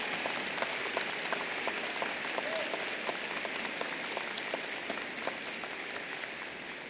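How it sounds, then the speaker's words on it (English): Sustained applause from an audience at a spring commencement ceremony for a college of social work, steady dense clapping throughout with a few louder individual claps standing out, moderately distant and even in level. "Could we get another round of applause for that inspirational message?"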